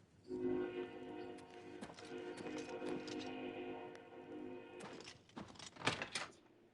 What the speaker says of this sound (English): I apologize for the train horns.